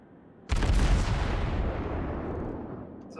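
Heavy naval gunfire from a World of Warships battle, with a cruiser's guns firing, breaks in as a sudden loud boom and then a long rumbling roar that slowly fades over a few seconds.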